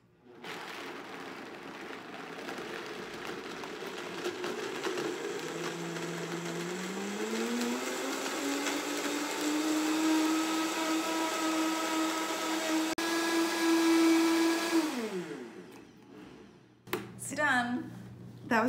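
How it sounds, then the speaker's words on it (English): A powerful blender grinds almonds and water into almond milk, a steady loud motor whir that rises in pitch as the nuts break down and runs for about fifteen seconds before cutting off, with a voice briefly heard afterward. "This is a really powerful blender"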